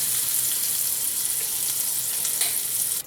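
Butter and olive oil heat in a pan for chicken stroganoff, giving a steady close sizzling hiss that holds evenly throughout and drops off at the very end.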